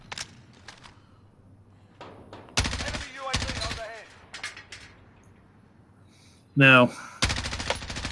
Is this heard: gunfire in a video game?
yes